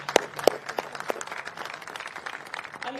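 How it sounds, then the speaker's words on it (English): A press conference crowd applauding for boxing announcer Michael Buffer, with sharp claps at first that settle into a dense, steady patter of clapping. "Let's get a round of applause for Michael Buffer, please."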